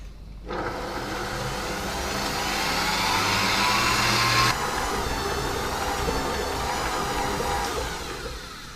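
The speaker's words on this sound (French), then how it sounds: "je vais baisser la vitesse au minimum, donc vitesse 1, et je vais pétrir donc ma pâte pendant 10 minutes." A stand mixer kneading pizza dough at its lowest speed, a steady motor whir with a rhythmic mechanical drone that holds constant for several seconds, close and moderately loud, with no talking.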